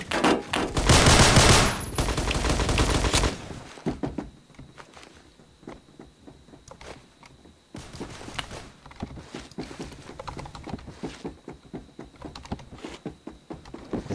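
Rama 1130 gunfire in the shooter game Phantom Forces: a loud, dense automatic burst lasting about three seconds, then scattered quieter shots and short bursts that keep going in the background.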